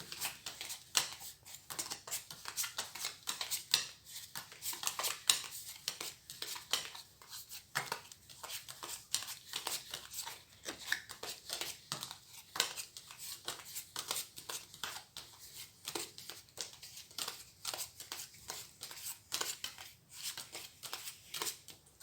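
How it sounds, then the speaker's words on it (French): Playing cards from a 52-card deck plus a joker being dealt out to four players for a game of Old Maid, a long run of soft, quick slaps and flicks repeating steadily at close range. "Et vous allez distribuer 13 cartes à chaque joueur si vous jouez à 4."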